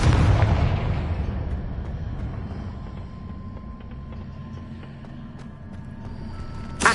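A loud explosion from the Confringo spell in the Hogwarts Legacy video game booms at the start, then a long rumbling decay trails off into a faint tail.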